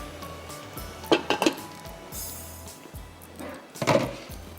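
Shahi cauliflower and peas being dished out, with a few clinks and scrapes of a serving spoon against pots and a plate in two short bursts, fairly close and otherwise quiet.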